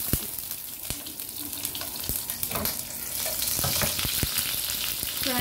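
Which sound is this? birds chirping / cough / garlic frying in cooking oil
garlic frying in cooking oil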